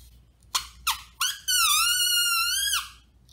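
A drinking-straw clarinet gives three short squeaky honks, then a sustained reedy buzzing tone that wavers slightly before cutting off.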